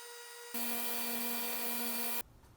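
Power saw making shallow cuts into the ends of wooden boards for tenons, a single steady high whine lasting under two seconds, close and loud with no talking.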